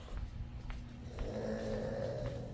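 A man snoring heavily indoors at night, a deep rough rumbling breath that swells into a louder drawn-out snore, close and continuous.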